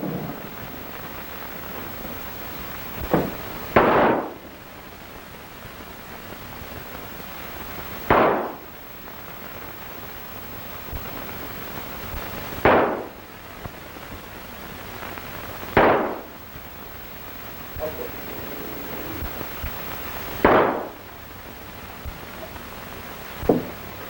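Gunshots ring out in a saloon in an old western film, six sharp cracks spaced several seconds apart over a quiet room-tone background.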